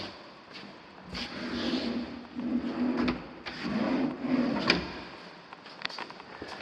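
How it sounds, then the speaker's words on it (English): A pocket door slides open and closed on its track a few times, with soft rolling rumbles and light knocks, fairly quiet and close. "I worked the pocket door."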